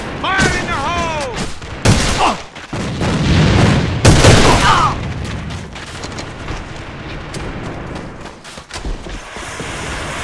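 A grenade blast and gunfire in a multiplayer shooter video game: a heavy boom near the start and another around the middle, with scattered shots and people talking over it.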